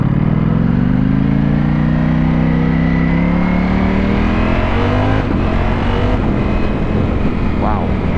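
A Ducati Panigale V4 motorcycle with no exhaust fitted accelerates hard as the clutch lets out, its engine note rising loud and close over several seconds, then easing with some wind noise and a faint voice near the end.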